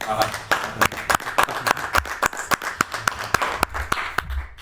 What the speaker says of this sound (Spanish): Para todas las personas que estés en la sala, por favor, un aplauso.